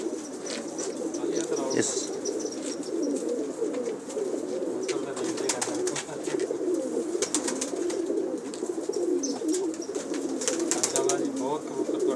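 Pigeons kept by a pigeon keeper coo steadily and close by in a continuous, overlapping chorus, with occasional chirps and a brief spoken word.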